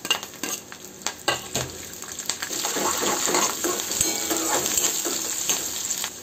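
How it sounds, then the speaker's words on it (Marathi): Chilies, mustard seeds and curry leaves fry in hot oil in a pan, with a steady close sizzle that builds in loudness and the scrape and clink of a stirring utensil early on. "मिरची पण टाकून देणार, कारण की तेलात मिरचीला छान होऊ द्यायचं"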